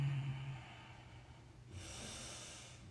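Slow nasal breathing in and out during a guided breathing session, a soft snort-like inhale followed by a quieter exhale, close and alone without talk.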